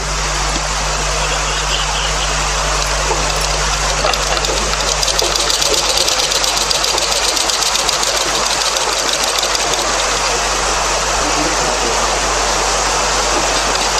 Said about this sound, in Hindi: यहाँ से हम फिर से वो सिलाई डालना शुरू कर देते हैं